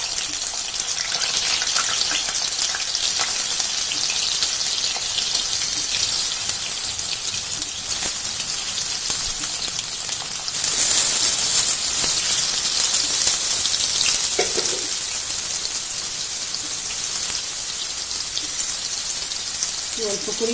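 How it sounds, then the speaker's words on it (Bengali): Potatoes frying in oil, a steady hissing crackle with a brief louder surge partway through and a faint voice near the end. "এবার আমি আলুগুলো ভেজে নেবো।"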